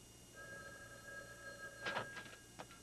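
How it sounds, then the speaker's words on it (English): A telephone rings in a bank in a 1987 sitcom, with a sustained electronic warble that holds for over a second, followed by faint clatter and movement afterward. "Answer the phone"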